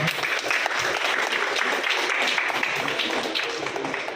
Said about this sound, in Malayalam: എല്ലാവർക്കും ഒരു നല്ല കയ്യടി കൊടുക്കാം